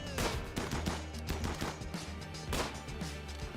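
Turrets and mini turrets firing in a video game match on a map of shallow water, a dense, loud volley of rapid overlapping gunshot bursts with sharp cracks throughout.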